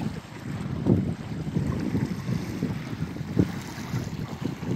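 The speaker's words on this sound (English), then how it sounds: "There's a breeze coming in from my left-hand side." Breeze buffeting a microphone on the shore of a reservoir, a steady low rumbling roar with gusty swells, fairly loud and continuous with no talking.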